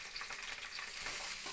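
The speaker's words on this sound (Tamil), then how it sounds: "கருவேப்பிலை நல்லா பொரிஞ்சணும், தீய விட்டுறக்கூடாது." Curry leaves and chillies frying in hot oil for upma, a steady bright crackling sizzle with faint stirring, continuous and close throughout, no voices.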